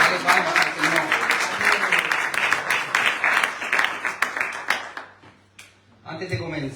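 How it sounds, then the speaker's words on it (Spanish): Church congregation clapping together for about five seconds, a dense steady patter of many hands that ends abruptly, then a short pause before a voice begins speaking. "Dale palmas al Señor."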